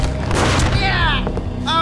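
Gunfire in the Max Payne shooter game: a loud, booming shot rings out amid dense action sounds, with voices shouting over it.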